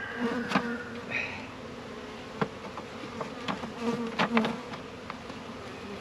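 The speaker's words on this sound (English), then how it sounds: "open up the front to let the bees out." Honeybees from newly installed live packages hum at the open hive entrance, a steady close buzz with individual bees swelling past now and then.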